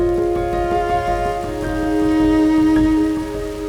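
Rain falls on and off in Patagonia, Chile, beside big rivers and lakes, a steady patter of drops close by with a faint constant tone running underneath.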